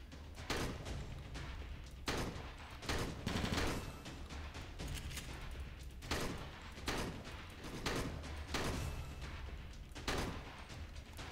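Shotgun blasts ring out in the video game Left to Survive, about a dozen heavy booming shots spaced roughly half a second to a second apart, loud and close, with no talking.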